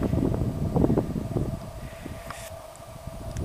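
Strong, bitterly cold wind buffets the microphone outdoors on a snowy late-February hike, a rough continuous rumble with gusty bursts that ease slightly toward the end.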